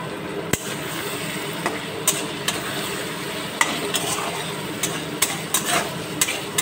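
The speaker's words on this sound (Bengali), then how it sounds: "মশলাগুলো একটু ভালো করে নাড়াচাড়া করে দেবো।" Ground spices such as coriander and turmeric powder with salt are stirred in a hot frying pan for a fish curry, giving a soft sizzle under periodic sharp knocks and scrapes of the spoon against the pan.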